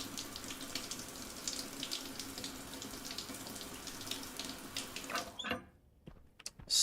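Shower water running in the Stationeers video game, a steady, close spray of water that cuts off near the end, leaving a few light clicks.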